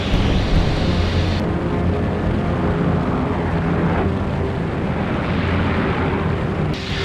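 A propeller aircraft accelerates down the runway for takeoff at Doncaster Airport, a loud steady engine roar with broadband rumble filling the whole stretch, no voices heard.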